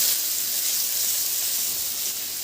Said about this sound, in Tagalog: Sa kawali naman, magpainit na ako ng mantika at igisa ko na yung bawang.